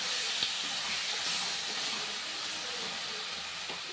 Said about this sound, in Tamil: ஜீரகம் சேர்த்து நல்லா வதக்கிக்கலாம்.